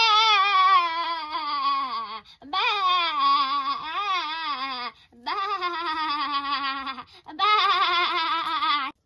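A human voice imitates a sheep in long wavering bleats, four sustained quavering calls separated by brief pauses, close and fairly loud.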